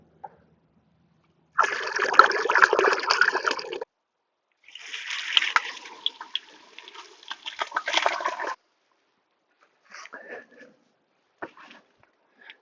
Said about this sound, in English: Just pouring it into this bucket of water.